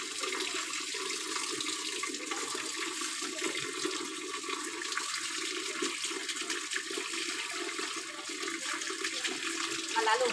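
Steady running water pours continuously while a pet is bathed, a close, even rush of water at moderate level with no clear voices over it.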